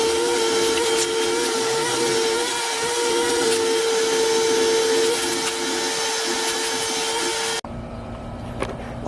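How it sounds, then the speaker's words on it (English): A vacuum cleaner runs steadily and loudly close by while cleaning a messy car interior, a constant whine and rushing drone that drops abruptly to a quieter, lower hum near the end. "We gotta vacuum up for sure."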